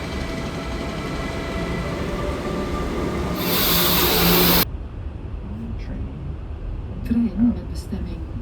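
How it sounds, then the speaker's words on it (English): Train noise at Brussels Noord station, a steady rumble of rail cars with a louder hissing burst partway through, then a quieter platform ambience with faint chimes or tones near the end. "Our day is starting in the Brussels Noord"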